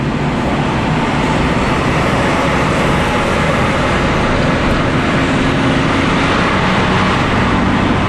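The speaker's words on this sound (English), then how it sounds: "we are just now getting on the Autobahn, the Berliner Ring" Car merging onto the Berliner Ring Autobahn near Berlin, giving a loud constant roar of engine, tires and wind heard from inside the vehicle, with no breaks.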